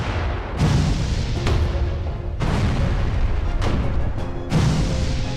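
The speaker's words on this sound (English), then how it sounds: "4 direct cannon shots" Cannon shots fire in the naval combat video game Furious Seas, several heavy booming blasts spaced a second or so apart, loud and close over a rumbling sea and battle background, with no talk.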